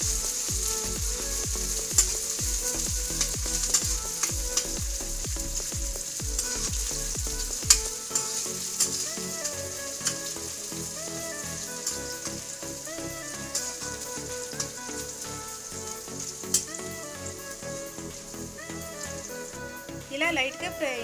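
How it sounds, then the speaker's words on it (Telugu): Chopped onions, thinly sliced carrots and shredded cabbage fry in hot oil over a high flame for veg noodles, giving a steady, dense sizzle and crackle that runs unbroken the whole way through. "ఆయిల్ హీట్ అయిన తర్వాత ఆనియన్స్, సన్నగా తరిగిన క్యారెట్ ముక్కలు, సన్నగా తరిగిన క్యాబేజ్ ముక్కలు వేసుకుని హై ఫ్లేమ్లో ఫ్రై చేసుకోవాలి"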